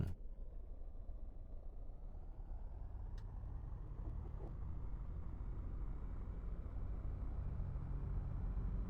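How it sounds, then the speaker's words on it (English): A Baron 58 twin-engine aircraft in X-Plane 10 runs with a steady low droning engine rumble throughout, constant and fairly quiet. "Let's start the engine."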